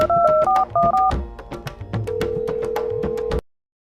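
A phone call being dialed: a quick run of keypad tones beeping in short bursts, followed by a steady ringing tone, loud and close with no voices.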